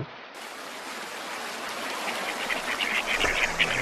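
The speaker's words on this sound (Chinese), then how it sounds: "鸭子们便浩浩荡荡涌向红树林旁的滩涂" Ducks quack in a scattered flock foraging on mudflats beside a mangrove forest in Hainan at low tide, over a steady rushing, watery hiss, the calls growing busier toward the end.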